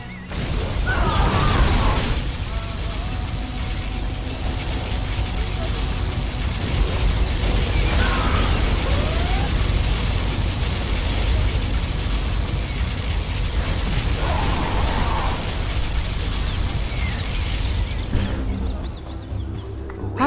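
Loud, continuous roaring blasts of particle cannon fire in Command & Conquer Generals Zero Hour, with bursts repeating every few seconds over a dense, rumbling synthetic background.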